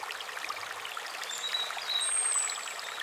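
A creek flows below a riverbank with a steady, soft rushing and trickling wash, with faint bird calls over the top of the constant water noise.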